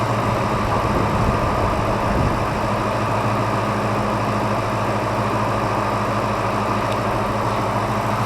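A Chevrolet LS3 V8 swapped into a 2008 Jeep JK idles steadily, a close, loud, even rumble with a low throb that holds through the whole stretch.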